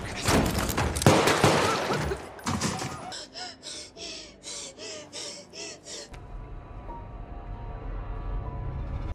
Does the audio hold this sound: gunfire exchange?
yes